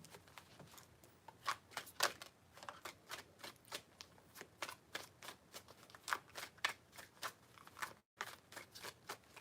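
Tarot cards being riffled and shuffled in a quiet room, a long run of crisp, rapid flutters and snaps in uneven bursts with a short gap near the end, no voices.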